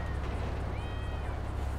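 A cat meows in the video game GTA V, a faint drawn-out meow rising over a steady low engine hum.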